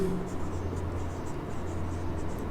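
Chalk or marker writing on a classroom board during a biology lesson, a steady soft scratching over a low constant hum, continuous for a few seconds with no talk.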